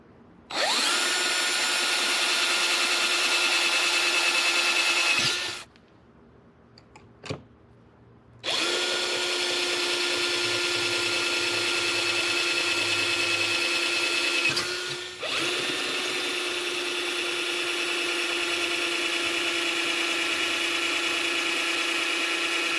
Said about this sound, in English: Use a spade bit, not a regular bit, only because you actually want to make holes.